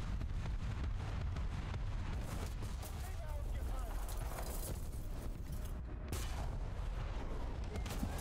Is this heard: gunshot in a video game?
yes